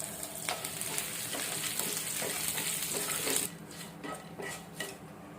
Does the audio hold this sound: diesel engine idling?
no